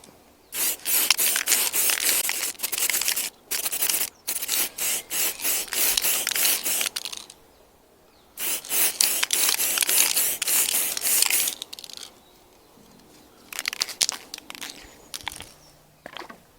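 Aerosol spray paint dusted lightly onto a Triumph Sprint 900 motorcycle part in repeated short hissing bursts, close and fairly loud, with brief pauses between passes and a few quieter puffs near the end.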